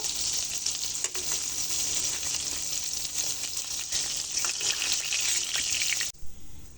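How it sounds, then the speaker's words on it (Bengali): Eggplant slices fry in hot oil in a kitchen pan, giving a loud, continuous crackling sizzle for about six seconds before it cuts off abruptly. "বেগুনগুলো আমি খুব বেশি ভাজবো না, ভাজা হয়ে গেছে, এইভাবে হালকা একটু ভেজে নেব"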